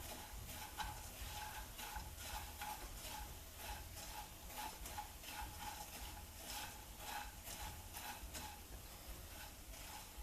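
Puffed rice (mamra) crisping in hot oil for bhel puri, giving a steady soft sizzle with rhythmic stirring and scraping strokes against the pan, close and continuous with no voices.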